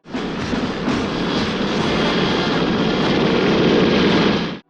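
A loud, steady aircraft engine roar, droning continuously before cutting off abruptly at the end.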